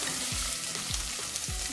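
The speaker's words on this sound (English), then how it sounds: "our pan is hot and I put 2 spoons of oil in there. So then we're gonna add some onions in there." Onions frying in two spoons of hot oil in a pan for moringa lentil daal, a loud continuous close sizzle broken by three evenly spaced stirring scrapes, with no talk.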